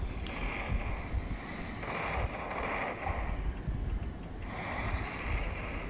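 Waves wash and slap against a boat in the Roblox video game, a steady surf-like rush with gusts of wind, heard alone for several seconds.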